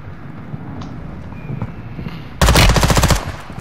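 Rapid burst of automatic gunfire in the Modern Warfare 2 / Warzone 2 video game, a loud close rattle of shots lasting under a second after quieter background game noise.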